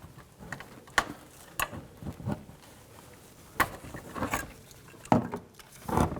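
A trim tool prying at a brake hose connector retainer on a 2007-2014 GMC Sierra 3500HD, producing scattered sharp plastic clicks, scrapes and small knocks at irregular intervals, close up with no talk.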